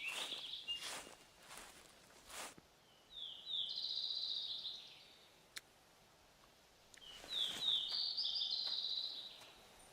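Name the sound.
crows cawing in theHunter Classic video game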